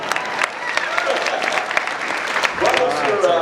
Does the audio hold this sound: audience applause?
yes